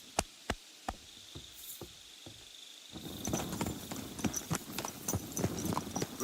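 Horse hooves clip-clop in Kingdom Come Deliverance II, a few slow, sharp single steps at first, then a quicker steady gait over a bed of chirping insects and crickets.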